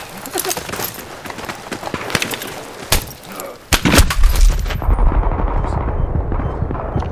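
Gunfire in a military shooter video game: rapid bursts of automatic fire and sharp single shots cracking near and loud, then a heavy rumbling blast that settles into a sustained roar.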